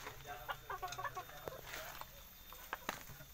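Bantam chickens cluck in short, scattered bursts during egg collection, moderately close and fairly faint, over a low background hum.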